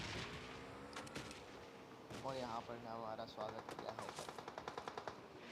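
PUBG Mobile gameplay on the Erangle map brings bursts of automatic gunfire and explosions, a rapid rattle of shots growing denser toward the end, heard under someone talking.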